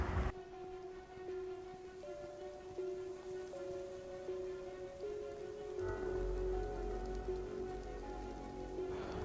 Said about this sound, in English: The rain is starting up again.